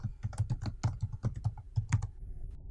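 Quick, close taps on a computer keyboard while a password is typed, about a dozen crisp keystrokes in an uneven rhythm, then a pause.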